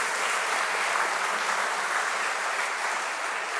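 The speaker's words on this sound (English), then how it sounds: "And you can give him a round of applause." Dense, steady audience applause fills a lecture hall in Newport for an architectural history professor, loud and continuous from start to finish with no voices over it.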